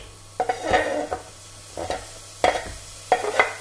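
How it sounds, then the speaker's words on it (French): Onions sauté in melted butter in a pan, a soft sizzle punctuated by four or five distinct scraping strokes of a utensil against the pan, close and unaccompanied by voices. "on fait revenir les oignons en 3-4 minutes"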